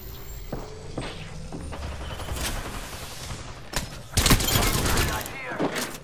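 Video game gunfire with sharp shots and heavy volleys, sparse at first and then a loud, dense burst near the end, mixed with thuds and footsteps while a voice talks over it.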